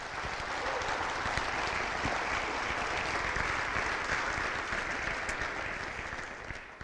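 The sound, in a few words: audience applause at an honor society ceremony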